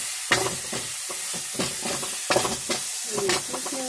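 Tomatoes frying in a pan for dal, a steady sizzle with bursts of stirring and scraping at irregular intervals, close and fairly loud.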